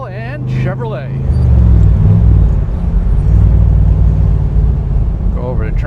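A 1965 Chevrolet Corvette L79 convertible with a 327/350 and four-speed rolls over railroad tracks, its deep engine rumble building steadily and staying close. Someone talks briefly at the start and end.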